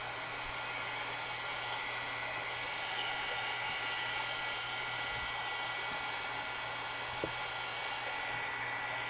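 A hair dryer blows steadily at close range, a continuous loud airy whoosh with motor hum, drying texture paste on a mixed media canvas.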